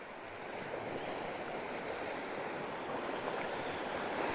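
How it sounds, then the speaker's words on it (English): Surf rolling in against the rocky shore at Point Vernon, Queensland, a continuous soft roar of breaking waves that builds gradually, moderately close with a touch of wind and no voices. "We've got some nice waves rolling in actually."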